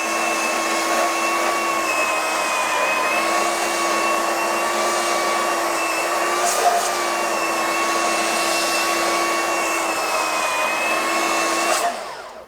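A DeWalt 20V XR 3x21-inch cordless belt sander, model DCW220, runs at a steady loud whine with a constant motor tone for about twelve seconds, then winds down at the end, with no voices.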